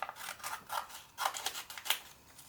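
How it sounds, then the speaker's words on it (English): Scissors cut out a paper bat shape on folded paper, a quick close series of crisp snipping strokes, about eight in a row, alone without talk. "Now when we cut that out, we don't cut down the fold, so we're just going to cut"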